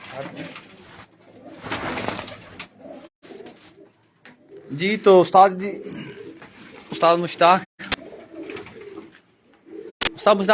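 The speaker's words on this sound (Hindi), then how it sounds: "ये उड़ा रहे हैं जी कबूतर। ये उस्ताद के उड़े हुए जो कबूतर हैं, आपको चंद दिखाते हैं कबूतर" Pigeons coo in soft, repeated bursts on a pigeon club's rooftop flying loft in Mianwali, mixed with a voice talking through most of the stretch and a couple of sharp clicks.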